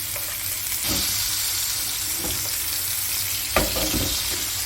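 A beef ribeye steak sears in a cast iron pan while hot butter is spooned over it again and again, making a loud, continuous close sizzle with occasional spoon clinks and spatters and no talking.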